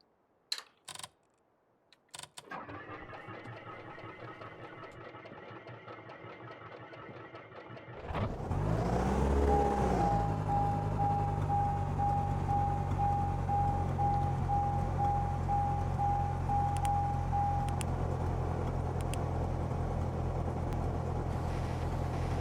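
A Cessna Skyhawk propeller engine cranks with a whining starter, catches with a surge, then settles into a steady loud idle that drones on with a faint high tone briefly sounding above the rumble; a few clicks come before the start.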